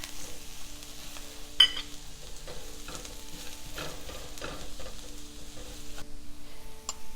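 Onions with a pinch of salt and chopped chilies sauté in a pan, a soft continuous sizzle broken by repeated scrapes and knocks of a stirring utensil, close and moderately quiet, with no voices.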